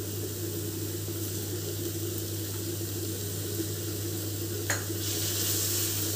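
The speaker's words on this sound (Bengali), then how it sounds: "নাড়াচ্ছি বেশ করে, লাল করে," Tomato and spices with garlic paste frying in a pan for a Bengali prawn malai curry, stirred steadily, giving a constant close sizzle with soft scraping under a low steady hum and one brief clink near the end.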